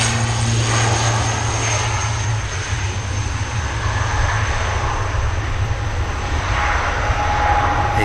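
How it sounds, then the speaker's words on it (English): An ATR turboprop airliner takes off at Manchester Airport with a continuous, fairly loud propeller and engine drone that holds steady throughout. "ATR should rotate around here."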